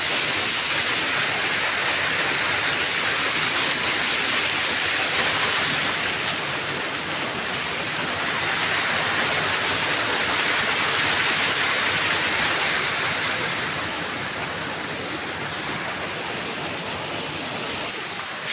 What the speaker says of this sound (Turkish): İşte az önceki şelalenin asıl üst kısmı bu, burası.